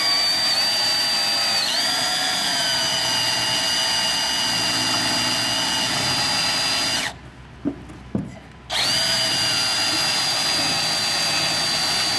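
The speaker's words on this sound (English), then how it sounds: "we drill our first hole." A loud, steady whine of a power drill boring a hole while installing a tool box swing mount, running continuously, cutting out briefly for a moment, then resuming at full volume.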